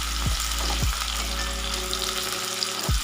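Chopped onion and garlic sizzling steadily in plenty of hot oil, a dense continuous fry heard close, broken by a few soft stirring scrapes of a spoon through the pan.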